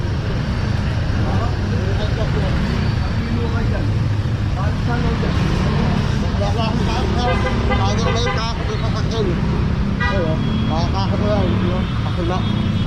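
Road traffic on Maceda street, a steady roar of cars and buses with brief horn-like tones in the middle, heard close and loud under a busy background of voices.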